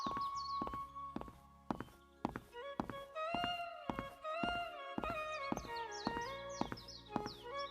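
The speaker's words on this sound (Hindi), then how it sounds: "उनके पीछे पीछे एक भारी पदचाप और गूंजती हुई हंसी सुनाई देती है।" Heavy, booming footsteps of a giant creature in an animated Hindi folk tale, a run of loud, spaced thuds falling in an uneven stride amid bright chirpy tones and musical accents.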